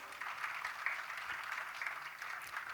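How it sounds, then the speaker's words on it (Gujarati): Steady applause from an audience at a Gujarati religious discourse, a dense continuous wash of clapping at moderate distance with no clear individual claps standing out. "હવે તાળીઓ પાડો તમારા માટે"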